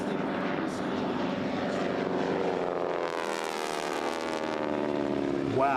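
Propeller racing airplane roaring past at an air race in Roswell, New Mexico, the engine drone loud and continuous with a rising then falling pitch sweep as it passes close by.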